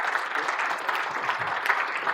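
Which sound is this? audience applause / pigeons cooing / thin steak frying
audience applause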